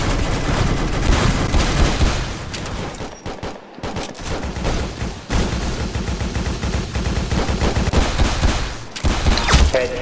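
Rapid automatic gunfire from the Roblox-style shooter game Arsenal crackles in dense, loud bursts almost without pause. A short dip in the middle breaks the firing, and the shooting stands alone with no talk over it.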